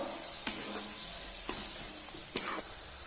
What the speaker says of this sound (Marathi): आता हे पण परतून घेणार आहोत आपण